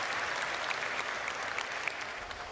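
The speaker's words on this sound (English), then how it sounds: "All right, you can clap." Audience applause fills a watch-party event hall, a steady wash of clapping from many hands that holds evenly throughout without a break.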